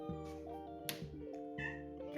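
A British Shorthair cat meows in a few loud, close, drawn-out calls in a home, with brief pauses between them.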